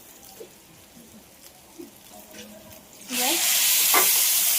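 Ghee and salt hit a hot pan with a sudden loud sizzle partway through, then a steady hiss continues. Before that there are only faint clinks and quiet handling sounds.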